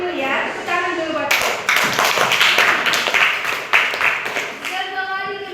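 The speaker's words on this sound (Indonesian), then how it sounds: "Tepuk tangan dulu" A group claps hands in a classroom lesson, a short burst of sharp, uneven claps that starts after a moment of talk and trails off as speaking resumes.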